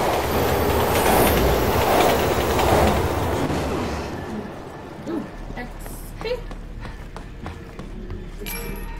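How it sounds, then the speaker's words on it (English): A train passing in the video game Resident Evil 6, loud rumbling and clattering rail noise that fades after a few seconds, leaving sparse clanks and knocks. "Train's coming."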